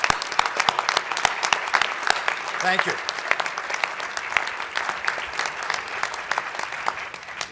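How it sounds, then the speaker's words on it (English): An audience claps through a State of the City 2015 address, sharp dense hand claps sustained at moderate loudness, while a nearby voice briefly offers thanks. "So please join me in applauding their vision."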